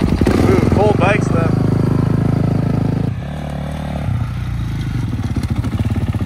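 Dirt bike engines idle and rev loudly nearby on a cold morning before riding, a steady rough drone with brief throttle blips, while a voice talks over it.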